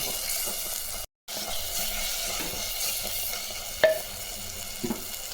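Ingredients for a quick kurma being sautéed in a pan: a steady, close sizzle runs throughout, broken by a brief silent gap and a couple of sharp utensil clinks near the end.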